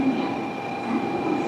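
Shinkansen bullet train pulling into Hakata Station in Fukuoka, a steady rumbling rail roar with a faint high whine, sustained at moderate loudness through the short stretch, faint voices in the background.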